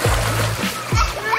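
A child splashing in a subdivision swimming pool while learning to swim, two short bursts of sloshing water close by, with a voice mixed in.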